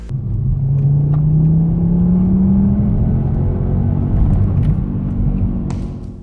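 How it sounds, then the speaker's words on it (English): A Volvo car engine idles while warming up, a steady close rumble with a gently rising whine early on, then settling into an even hum, no voices. "we're going to let the car warm up and go for a test drive"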